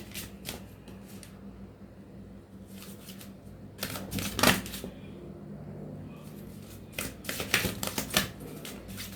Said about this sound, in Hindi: ओके, एक कार्ड मैं यहाँ से लूंगी।